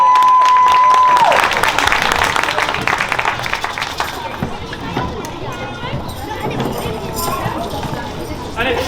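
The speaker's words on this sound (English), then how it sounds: "give them a round of applause" An audience applauds a Year 4 school class performance at an assembly, loud and sustained after a brief tone, with chatter and other voices running under the clapping.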